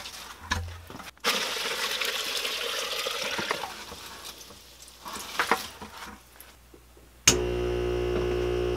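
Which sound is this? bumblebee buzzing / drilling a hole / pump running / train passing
pump running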